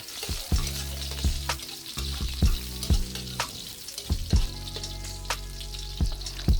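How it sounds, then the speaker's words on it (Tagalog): Garlic sautéing in hot oil for sotanghon guisado, a loud close sizzle broken by regular sharp knocks and scrapes of a utensil against the pan, with no talk. "Gisahin lamang po yung ating bawang."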